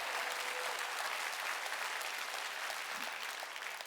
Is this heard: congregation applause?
yes